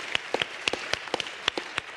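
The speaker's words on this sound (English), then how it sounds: "let's give her another round of applause" Audience applause at a justice summit, scattered claps ringing out at a steady rate, fairly close and loud, with no talk over it.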